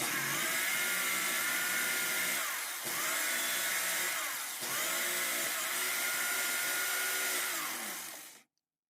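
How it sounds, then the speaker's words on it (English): Rust is scrubbed off old scissors on a makeshift, worn wire wheel; a loud, steady spinning whir with bristly scraping runs in three long passes with brief dips between them, then cuts off near the end. "Maybe one day I'll restore this wire wheel, but for now it's doing the trick"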